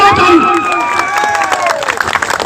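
A crowd at an election rally in Kishanganj, Bihar, breaks into loud cheering, whooping and clapping up close, with rising shouts and whistles over a dense wash of applause.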